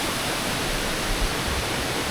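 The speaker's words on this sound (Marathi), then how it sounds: "या झऱ्यातून पाणी डायरेक्टली येतं विहिरीमध्ये." Spring water runs straight into a village well, a steady, close, even rush of flowing water with no voices.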